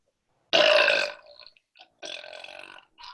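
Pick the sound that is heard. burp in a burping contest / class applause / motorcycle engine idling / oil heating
burp in a burping contest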